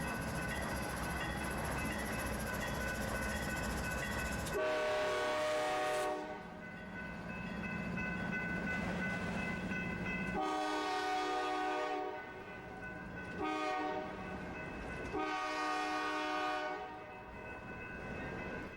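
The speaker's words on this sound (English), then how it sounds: "This is not the holiday train, but this was a freight train going through." A freight train rumbles past with long, loud horn blasts sounding several times, the drawn-out horn tones over a steady rolling rail noise that eases between blasts.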